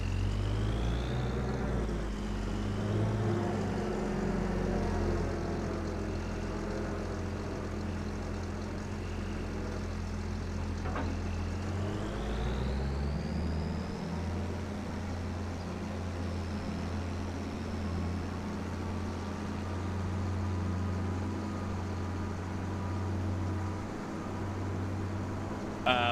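Tractor engine droning steadily while driving in the Farm Simulator video game, a low continuous hum with a brief shift in pitch partway through, sitting alone at a moderate level.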